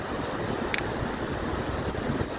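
Strong wind at a coastal spot in Claveria, Cagayan, a dense steady roar buffeting the microphone without a break, loud and close.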